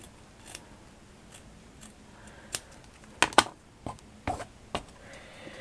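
Scissors snip through a large brooch pin back in a handful of sharp, irregular cuts, some quick doubles, close and quiet against a faint room hush with no talking.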